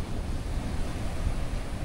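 Steady surf and wind rush at a deep-water shore in Cayman, a dense, continuous low roar with gusting microphone wind noise and no clear breaks between waves.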